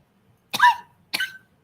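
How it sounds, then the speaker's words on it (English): Two sharp, close coughs about half a second apart, isolated against near silence. "I don't know why I'm coughing"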